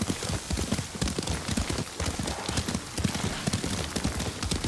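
Horse hooves clip-clop in a steady, rapid galloping rhythm while riding in Ghost of Tsushima, close and continuous with light background ambience.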